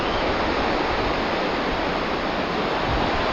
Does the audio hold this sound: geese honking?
no